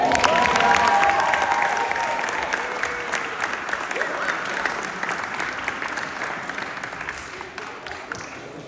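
An awards recognition event crowd gives a sustained, dense round of applause with some cheering for a first-place winner. It is loud at the start and eases slightly over the stretch, with a voice briefly audible early on.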